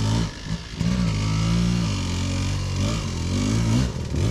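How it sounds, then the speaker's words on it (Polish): A 200 racing motorcycle engine revs loudly and continuously, its pitch rising and falling through several throttle bursts, close by with no talking. "Pięknie idzie motor."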